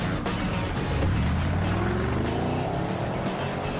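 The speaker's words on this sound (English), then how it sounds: "The sales staff get to act like test drivers, accelerating, taking curves at top speed," BMW pushed hard on a test drive, engine rising and falling through acceleration and curves with tyre noise and brief squeals, heard from nearby over continuous road roar.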